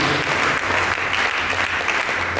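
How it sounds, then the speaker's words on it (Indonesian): A church congregation claps, a dense sustained applause filling the room evenly for a couple of seconds, loud and close with no voices above it. "Berikan tepuk tangan yang meriah."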